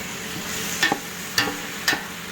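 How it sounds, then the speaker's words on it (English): Vegetables fry in a pan after garlic and onion, a soft steady sizzle punctuated by three crisp scraping stirs of a utensil at regular intervals, close and fairly quiet. "I'm now frying the veggies."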